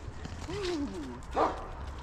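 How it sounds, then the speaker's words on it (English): Very large dogs in Basque Country: a whining, drawn-out canine call, then a short sharp bark, both fairly faint and heard outdoors. "They are the biggest dogs I've ever seen in my life."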